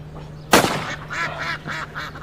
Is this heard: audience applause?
no